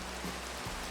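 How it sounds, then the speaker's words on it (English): Steady rain hiss from Minecraft, a short even wash of falling drops with no voices. "Sounds like rain."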